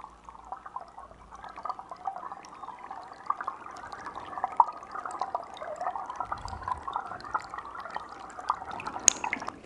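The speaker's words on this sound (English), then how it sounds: "sonic patterns of the water playing under the ground" Water flowing underground, picked up by a hydrophone: a faint, continuous gurgling trickle with scattered small drips and bubbly ticks throughout.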